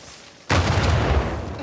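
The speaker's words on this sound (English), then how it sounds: "Well, now we know what caused the explosion." A sudden loud explosion in Uncharted 4 bursts out after a quiet moment, a heavy boom followed by a sustained rumbling, crackling roar of debris.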